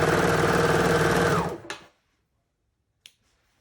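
A sewing machine stitches elastic, running at a steady, close whir for about a second and a half before stopping, followed by two sharp, isolated clicks.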